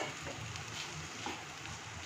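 Prawn heads dropped into frying spice masala give a steady, low sizzle and crackle close by, fairly quiet and even throughout.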